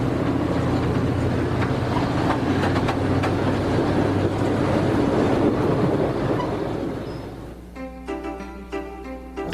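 A train rolls loudly past a platform with a dense, continuous rumble that fades after about seven seconds, leaving quieter tonal sounds.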